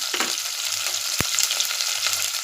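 Small shallots sizzling in hot oil with curry leaves while cooking a fish curry, a steady close frying hiss with a brief stir or clack midway.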